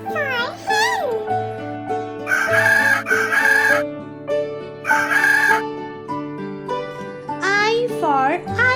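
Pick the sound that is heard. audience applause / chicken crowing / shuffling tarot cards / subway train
chicken crowing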